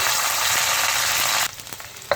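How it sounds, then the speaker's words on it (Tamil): Onions sizzle loudly in hot oil with mustard seeds and curry leaves, a dense crackling hiss that suddenly cuts down, leaving softer scattered pops and a small clink. "சேர்த்து நல்லா பொன்னிறமாக வதக்கிக்குவோம்"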